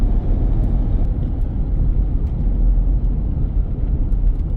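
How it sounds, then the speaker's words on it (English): A car drives along a road in a steady, loud, close rumble of engine and tyre noise, continuous and even throughout with no talking. "just a nice ride through here."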